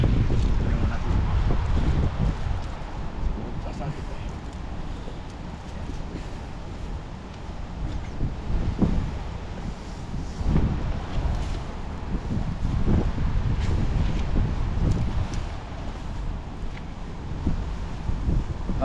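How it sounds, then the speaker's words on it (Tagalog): Strong, cold wind buffets the microphone outdoors, roaring in continuous rumbling gusts that rise and fall without pause for the whole stretch, loud and close, with no speech. "Malamig na malakas yung hangin."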